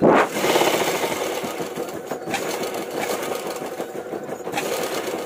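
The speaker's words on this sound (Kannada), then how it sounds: "ಇದಕ್ಕೆ ಸ್ಟಿಚ್ ಮಾಡೋಣ." A sewing machine runs steadily while stitching a boat neck blouse, its close, continuous mechanical whirr holding with small rhythmic variations and no voices over it.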